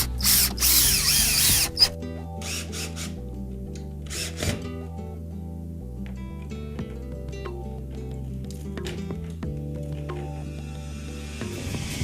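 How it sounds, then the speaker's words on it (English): A power drill drives screws down through a rooftop dome on a house under construction, with short whirring bursts and several brief runs, close and fairly clear over a steady tonal background. "Now we'll put the screws down through it."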